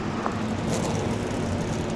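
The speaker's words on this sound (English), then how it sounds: "36 engines are fired up and ready to get going" Thirty-six IndyCar engines in the NASCAR Racing 2003 video game rumble together in a dense, steady, loud drone with no break, a pack of race cars idling before the start.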